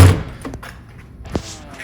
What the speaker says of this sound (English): If I open up this fridge slide, get this shallow drawer open